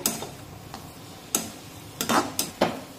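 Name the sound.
stirring and sautéing spices in a pan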